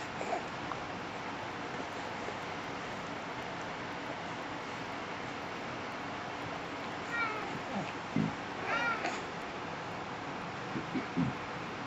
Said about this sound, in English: Do you see the kitty?